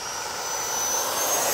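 A Freewing 90mm F-22 model jet with a custom afterburner, flying at sunset: a steady, loud ducted-fan whine and rushing roar that holds throughout, with no voices.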